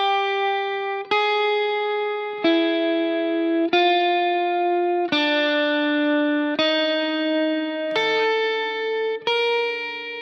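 Slow single guitar notes with a distorted tone, a technique exercise of about eight plucked notes spaced evenly, each ringing out before the next, no voices.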